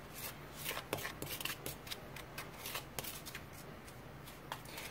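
Unsweetened baking cocoa stirred into protein powder, a steady run of soft scraping and tapping strokes close by, fairly quiet, with no talk.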